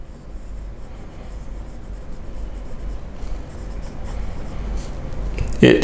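Moonman M800 fountain pen with a Bock nib writing on paper, a faint, steady scratching drag close up under a low background hum.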